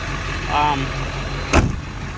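A steady low truck engine rumble idles throughout, with a brief voice early on and a sharp thud partway through.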